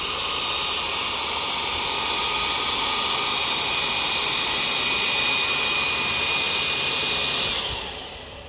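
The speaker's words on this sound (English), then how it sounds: "Shows you the power of the blower right there" A Yarbo robotic lawn mower's leaf blower attachment runs at full power with a loud, steady jet-like roar and a high whine nearby, fading as it winds down at the end.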